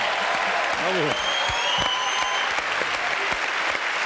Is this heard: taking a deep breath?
no